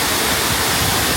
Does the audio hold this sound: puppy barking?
no